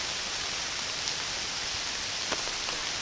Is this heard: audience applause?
no